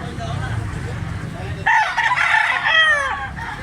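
A white huckle stag rooster lets out a single clear crow, close and loud, over a low background murmur in an outdoor setting.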